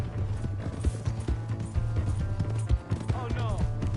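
Horse hooves clip-clop at a steady gallop-like rhythm in Red Dead Redemption 2, close and continuous over game music, with a voice shouting in between.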